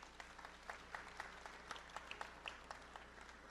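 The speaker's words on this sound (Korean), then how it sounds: "감사의 박수 부탁드리겠습니다" An audience gives thanks with applause at an army drone swarm flight demonstration event, faint and distant, scattered claps over a low steady background hum.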